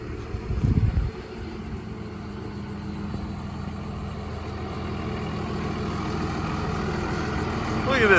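A 2001 second-generation 24-valve pickup truck idles with a steady low diesel-like rumble, close by and gradually growing louder, after a brief louder thump at the start.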